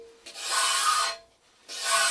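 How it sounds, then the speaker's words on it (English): A metal scraper rasps primer off a kiln shelf in two long, steady strokes separated by a short pause, the scraping close and fairly loud with no talking. "I'll begin scraping, and it's a really simple process. So just angle up your shelf,"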